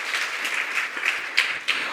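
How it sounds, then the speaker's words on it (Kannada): A church congregation claps hands together, a brief burst of fairly even, moderately loud applause with a few sharper individual claps standing out near the end. "ಎಲ್ಲ ಕೈ ಚಪ್ಪಾಳೆ ತಟ್ಟಿ."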